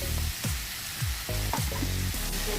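Green chili, potato and cut bottle gourd drop into hot oil in a frying pan, raising a steady close sizzle with several sharp bursts as each batch lands and is stirred.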